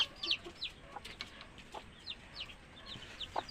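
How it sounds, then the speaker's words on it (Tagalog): A mother hen on her second brooding clucks softly in a backyard pen walled with plastic and sacks, giving short, scattered, faint calls with high chirps in between and no talking. "ito pala mga kabakyard na inahin natin"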